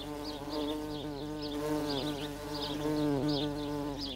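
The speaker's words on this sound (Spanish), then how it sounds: "la abeja albañil abandonará la arena para recoger polen y néctar de las flores del jardín" A bee buzzes close by in flight, its droning hum wavering up and down in pitch, steady and continuous with no voices.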